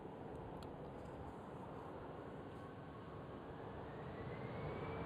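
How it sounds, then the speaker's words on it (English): An EasyJet airliner passes over Amsterdam Schiphol airport, a faint, even jet rumble with a slowly rising whine, heard at a distance and without talking. "There goes EasyJet."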